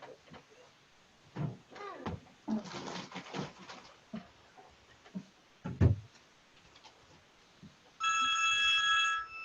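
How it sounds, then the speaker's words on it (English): An office telephone rings during a meeting. Scattered knocks, shuffles and brief noises come first, and then a loud electronic ring with a steady warbling tone sounds alone for the last second and a half. "that's our phone and I gotta answer it."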